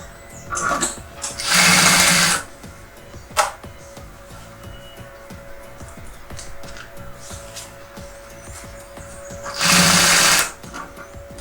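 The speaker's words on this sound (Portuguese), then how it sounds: "Pego uma tirinha do próprio bagum, posiciono frente com frente e passo uma costura nela todinha." A domestic sewing machine stitches a strip of bagum fabric along a zipper for a lunch bag, running in two quick bursts of rapid close-up clatter, with quieter handling noises in between.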